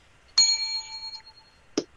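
A bright bell dings once for a sponsor plug, ringing with a clear sustained tone that fades over about a second, followed by a short knock.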